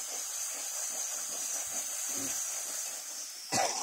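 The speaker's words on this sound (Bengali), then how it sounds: "এবার মশলাটা ভালো করে কষিয়ে নেব।" Spice masala fries in a pan for a jackfruit and prawn curry, giving a steady, close hiss and sizzle throughout, broken by a brief clatter just before the end.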